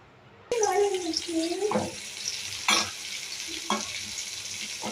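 Onions, tomatoes and mustard seeds fry in a pan with a steady, close sizzle, broken by scraping stirs. A voice is heard briefly at the start.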